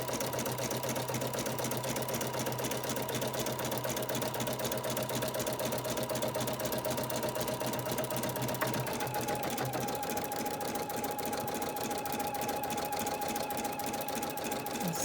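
An embroidery sewing machine stitches basting stitches to hold fabric to tearaway stabilizer in a hoop, a steady, rapid mechanical chatter with a running motor hum that continues close up throughout, shifting slightly in tone partway through.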